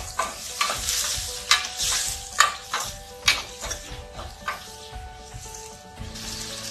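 Frying onion with ground tomato and green chili is stirred in a pan, giving a soft continuous sizzle broken by repeated sharp scrapes and clacks of the spoon in a steady rhythm.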